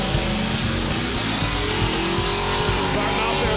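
A loud drag race car engine roars steadily at close range as it launches down the track, its pitch climbing as it accelerates hard, with a faint voice underneath.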